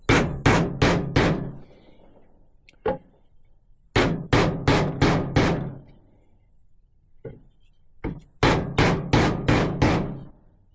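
On a Mk1 Ford Capri 3000E, an aluminium part is tapped into place with a flat piece of wood. Loud, hollow knocks come in quick bursts of four or five, separated by short pauses and a few single taps.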